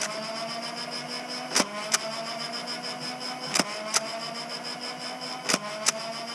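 A Nerf Ultra One blaster hums steadily as its flywheels spin, with sharp, well-spaced clacks of darts being fired: a pair near the start, a pair in the middle and a pair near the end, each close and loud over the whine.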